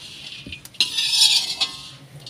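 Panjeeri ingredients, semolina among them, are roasted in a pan, a metal spoon scraping and knocking against it in a few distinct strokes over a soft background hiss, with no talking.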